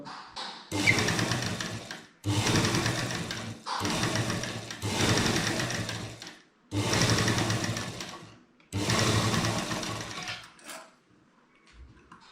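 A sewing machine stitches kurta fabric along the width of the presser foot, running in six loud, rapid mechanical bursts separated by short pauses.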